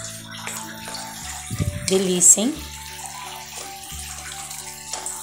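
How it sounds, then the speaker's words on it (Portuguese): Water is poured into a cooking pan on the stove while hot dog filling simmers, giving a brief splashing, sizzling gush that rises and fades quickly, with someone speaking just before. "Vou colocar a água."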